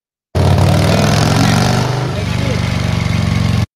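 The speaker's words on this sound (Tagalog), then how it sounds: "Motorsiklo, narinig niyo ba yung tunog ng motorsiklo?" A motorcycle engine rumbles steadily at close range for about three seconds, a low throbbing idle that dips slightly midway, with faint voices underneath.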